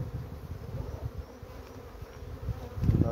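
Honeybees buzz steadily at a hive during formic acid treatment, a dense, close, droning hum that keeps going for about three seconds and swells slightly near the end, with no voices.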